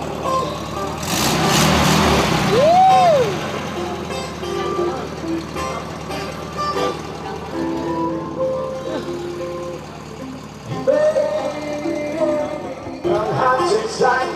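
A VW bus engine idles and revs after a carburetor tune-up at an outdoor VW bus festival, a loud rumble swelling early and then settling, with voices talking over it.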